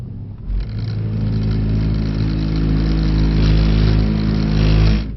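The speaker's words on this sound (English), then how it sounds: "you can hear and feel the car is working quite a lot for us there" A 630 bhp Mercedes-AMG GT engine revs up hard and holds a loud, rising roar for several seconds as it accelerates, heard from inside the car.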